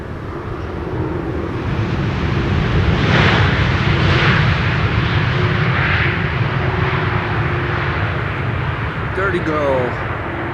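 An aircraft arrives on Schiphol's Buitenveldertbaan Runway 27 with a steady, loud jet roar that swells and fades slightly, and voices talk over it.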